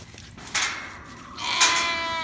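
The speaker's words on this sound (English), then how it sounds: "I have a baby sheep." Blackbelly sheep lamb bleating on a farm, two short, high, wavering bleats in quick succession, close and fairly loud, the second one longer and more drawn out.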